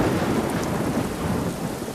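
Steady heavy rain pours down while thunder rumbles through it, a continuous dense wash of noise on a rainy school day, with no voices.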